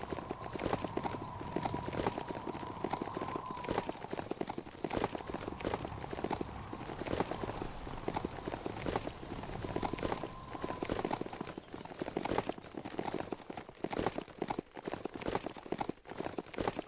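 Steady clip-clopping hooves of a horse walking in the video game Biomutant, a continuous even rhythm at moderate volume over a constant electronic hum.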